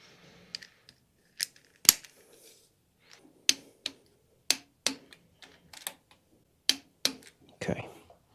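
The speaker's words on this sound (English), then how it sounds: "And then we're going to torque these to 15 foot-pounds." A torque wrench clicks sharply while bolts on a small-block Chevy engine under rebuild are tightened to 15 foot-pounds, a dozen or so crisp close clicks in uneven bursts with some handling noise between.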